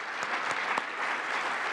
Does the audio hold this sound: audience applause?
yes